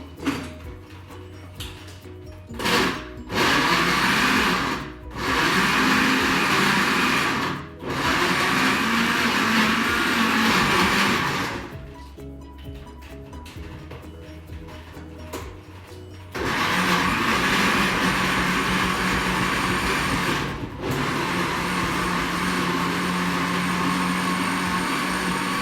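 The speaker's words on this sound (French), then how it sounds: "Allez, c'est parti, je mixe le tout." Blender whirring on and off as it purées banana and mango for a mousse, a loud motor drone in long bursts broken by short pauses, close and without talk.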